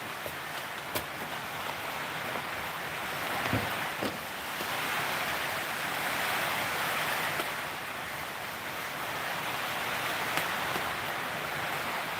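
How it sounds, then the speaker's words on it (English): Rain falls steadily outdoors in New Zealand, a dense, even hiss that holds for the whole stretch with faint occasional knocks and no speech over it. "just, I don't know, listen to the rain for a minute"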